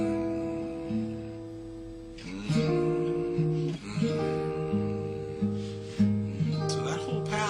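A clean guitar plays a slow reharmonized passage of two-note chords in parallel fourths, each shape ringing out before shifting to the next, with soft picking noise.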